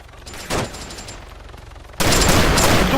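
Gunfire in the video game Arma 3, with a short burst early on over a steady background, then a sudden loud sustained fusillade of rapid shots that carries on to the end, with no voices.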